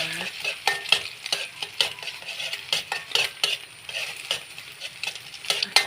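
Egg being stirred into a mixture in a hot pan, with a utensil scraping and clinking against the metal in quick, irregular strokes over a steady sizzle, close and clear.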